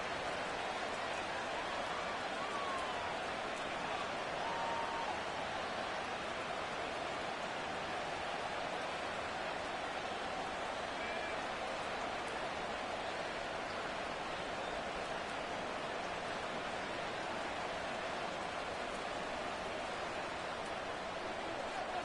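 Steady rain falls over an NFL football stadium during a Cleveland Browns at Baltimore Ravens game, a constant broadband hiss that fills the whole stretch, with faint crowd and announcer talk buried underneath.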